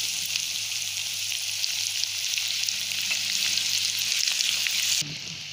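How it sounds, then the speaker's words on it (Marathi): Turmeric and leftover masala sautéing in a pan on low heat for stuffed brinjal, a steady close sizzle with faint stirring scrapes that drops away sharply near the end. "हळद घालूया आणि थोडा राहिलेला मसाला आहे तो मी थोडासा परतून घेते"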